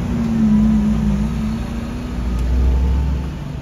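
A Lamborghini Countach, a modern reinterpretation of the classic car, drives past nearby with a loud, steady engine drone that swells slightly in the second half.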